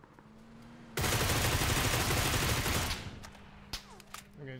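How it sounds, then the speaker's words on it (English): Gunfire in PUBG, a sudden dense burst of loud rapid shots lasting about two seconds, then trailing off into a few scattered sharp cracks and faint echoes. "I'm getting shot from somewhere."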